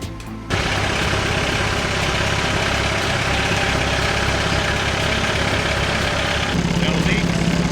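Skid steer loader engine idling steadily after its muffler was remounted, starting up loud and close with a continuous low rumble and no talk over it.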